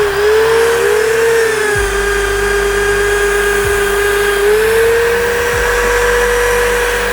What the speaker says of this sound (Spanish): Es encender el taladro, darle bien de pulimento al disco y extender todo el pulimento por todo el cráneo